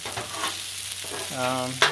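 A turkey stir fry sizzles steadily on a Blackstone griddle, a continuous close frying hiss with faint stirring scrapes and a short tonal ring near the end, with no talking.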